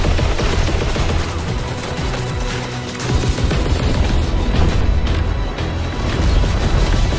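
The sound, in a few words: gunfire in Call of Duty WW2 battle, from a video game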